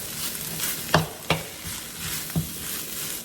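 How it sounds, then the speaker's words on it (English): Rice stir-fries in a pan with a little oil, a soft steady sizzle broken by a few distinct scraping and tossing strokes of a spatula, close up with no talking. "when you're actually frying rice, what you're doing more than anything is really making sure you dry that rice out"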